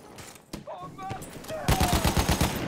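Rapid automatic gunfire rattles in a burst during a Battlefield 1 match, preceded by scattered shots and combat noise, with a player's voice speaking over the action.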